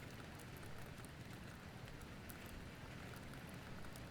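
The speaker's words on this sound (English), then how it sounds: "there's a storm coming through yet again." Rain from a passing storm pours over a forest, a dense, unbroken hiss with light patter, steady and quiet throughout.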